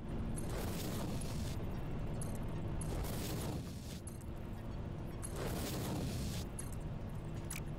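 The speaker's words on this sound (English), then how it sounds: "Neighbor's loud ass truck." A neighbor's loud truck outside, rumbling as a broad, continuous low roar with repeated swelling surges, heard distantly and fairly faint, with no talking.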